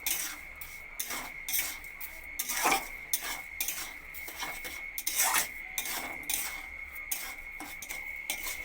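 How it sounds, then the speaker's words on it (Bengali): Semolina and sugar are stirred together in a pan for a sweet suji, with a spoon rasping and scraping against the metal in quick, rhythmic strokes that stay fairly soft and close. "চিনিটা দিয়ে আবারও একসঙ্গে চিনিটা মিশিয়ে নেব"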